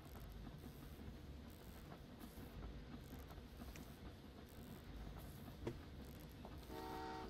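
Passenger train in the Train Valley 2 game rolling along with a steady rumbling background, a brief toot near the middle and a horn-like tone at the end.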